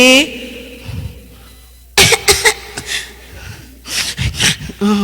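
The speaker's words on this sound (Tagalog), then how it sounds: "Giubo man gud ko." Several harsh coughs from a preacher in quick bursts, close to the mic, with brief breathy pauses and a short vocal sound between them.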